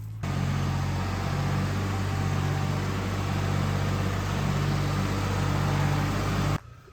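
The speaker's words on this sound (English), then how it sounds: "He's coming. I hear him coming with the tractor." Steady low engine drone of a tractor on a farm, constant humming rumble with a mechanical whine that holds even and then cuts off abruptly near the end.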